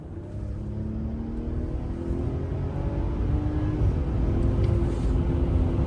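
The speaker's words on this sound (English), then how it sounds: "We're gonna go ahead and hit this high output inline-six twin turbo from a roll and see what it has." The high-output twin-turbo inline-six of a 2025 Ram 1500 pulling from a roll, a low engine rumble building steadily in pitch and loudness as the truck accelerates.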